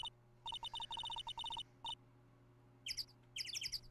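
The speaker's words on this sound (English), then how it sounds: "Bird noises. Huh? Bird noise. Bird.wav." Bird chirping sound effect from the Ace Attorney video game: a rapid run of short, bright, evenly spaced chirps, a pause, then a second quicker burst of higher trilling tweets, fairly clean and close.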